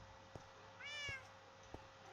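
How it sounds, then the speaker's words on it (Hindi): Minecraft cats meowing in a player's house, one quiet, rising meow in the middle, with faint soft clicks spaced around it and no talking. "मानव के घर में देखना अभी कितनी बिल्लियाँ आएंगी।"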